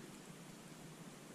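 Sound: rain

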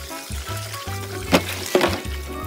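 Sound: washing rice straw in water

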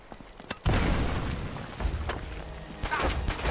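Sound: gunfire in Uncharted Drake's Fortune video game

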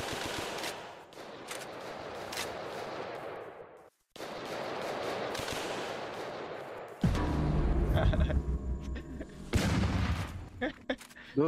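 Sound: gunshots in a video game

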